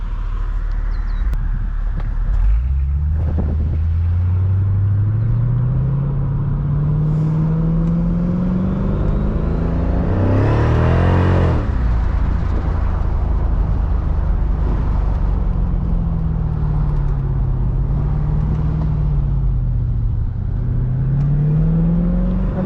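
A 2005 Mercedes CL55 AMG driven around the block: a loud, steady engine drone rising and falling through gears, with one strong surge of acceleration midway, no talking.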